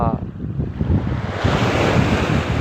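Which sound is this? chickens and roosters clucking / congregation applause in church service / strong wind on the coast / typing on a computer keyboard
strong wind on the coast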